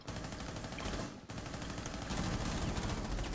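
Rapid, continuous gunfire fills a shooter video game match, a dense loud burst with a brief break partway through before the shooting resumes.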